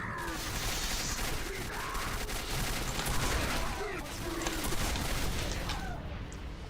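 Shotgun and other gunfire blast through a firefight in the first-person shooter Quake 4. The shots form a dense, nearly continuous barrage mixed with game noise, loud and sustained, with no clearly separated single shots.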